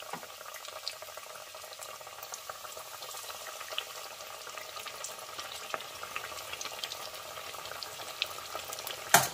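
Chicken pieces deep-fry in hot oil in a casserole pot, a continuous bubbling, crackling sizzle with scattered pops, close and fairly quiet, with one sharper clatter near the end and no voices.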